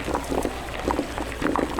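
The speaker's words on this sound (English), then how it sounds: "the sounds of the pots boiling" Pots boil in a kitchen, a bubbling, gurgling liquid sound with soft irregular pops, fairly quiet and continuous over a low background hum.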